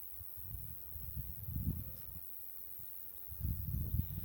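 A honeybee colony buzzes steadily during a hive inspection, a low droning hum that swells and fades in soft waves, close and continuous with no voices.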